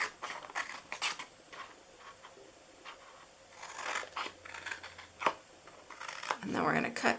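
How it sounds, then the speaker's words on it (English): Scissors snip paper glue tabs for a Christmas triangle box, giving a few scattered cuts and papery rustles close by, under steady talk. "So these are going to be glue tabs. So we're going to cut here."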